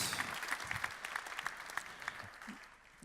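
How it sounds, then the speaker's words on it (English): An audience at an early-stage startup pitch competition applauds after a presenter finishes, a moderate burst of clapping that fades over a few seconds. "Round of applause, Michals from CENOS."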